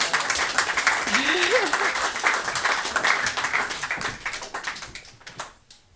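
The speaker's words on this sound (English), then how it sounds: "give him a round of applause for multiple hats" Audience applause fills a small intimate concert room, steady dense clapping that gradually thins and fades out near the end, with a voice briefly heard over it.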